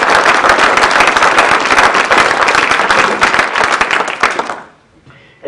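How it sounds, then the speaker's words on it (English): Audience at a constitution conference giving a strong round of applause, loud dense clapping that holds steady and then dies away quickly near the end. "I think we should give a round of applause to the Constitution."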